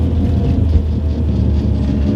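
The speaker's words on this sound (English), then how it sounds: "the noise is so distinctive. You can tell it's a Rotor without even seeing what it is." A 1970 Mazda R100 rotary-engined car drives by with a steady, buzzing low engine drone, moderately loud and unbroken, with no voices.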